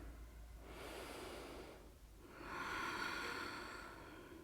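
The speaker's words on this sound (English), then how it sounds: "One more big inhale here." A slow, deep inhale through the nose during a yoga session, heard close and soft, with two drawn-out breaths separated by a brief pause and the second fuller and longer.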